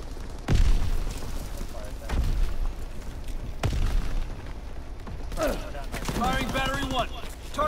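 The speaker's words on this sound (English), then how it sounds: "Firing battery one. Target position confirmed." Artillery battery firing in a war video game: several heavy booms spaced a few seconds apart, deep and punchy, with rumbling in between and a voice talking over the later part.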